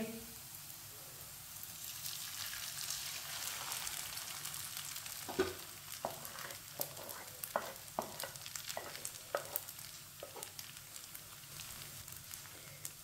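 Leftover rice is stirred and fried in a pan, giving a soft background sizzle broken by a series of sharp scraping and tapping strokes of the spoon against the pan in the second half.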